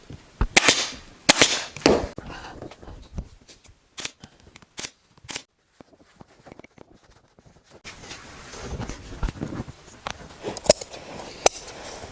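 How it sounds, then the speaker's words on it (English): A staple gun fires into upholstery fabric on an armchair being reupholstered, giving a run of sharp, loud snapping shots in quick succession, then several more spaced cracks amid rustling handling noise. "And then a staple at the bottom here."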